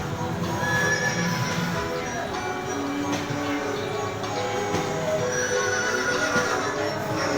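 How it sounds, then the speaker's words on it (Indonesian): A horse neighs and whinnies over a dense, steady wash of background noise in an indoor children's playground, with faint hoof clip-clops mixed in. "Ini kuda."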